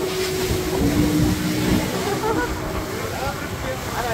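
A boat approaching at Al Sawadi Beach in Oman: a steady engine drone blends with wind and surf in a continuous, fairly loud wash, and faint voices murmur in the background.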